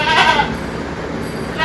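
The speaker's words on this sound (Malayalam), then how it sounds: "cross breed Aadu" A crossbreed goat, a large young doe crossed with a Jamnapari buck, gives one loud, close bleat near the start, followed by steady background noise with no talking.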